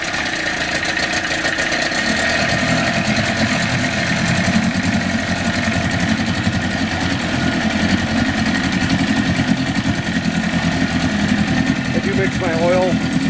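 A 1996 Evinrude 28 Special long-shaft outboard motor idles after a cold start, giving a steady, close mechanical drone that runs the whole way through with a voice talking over it.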